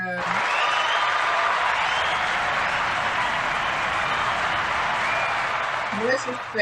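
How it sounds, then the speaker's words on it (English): Dense, continuous applause from a crowd, a steady wash of many hands clapping that holds at even loudness before tapering slightly at the very end. "Let me give her a round of applause."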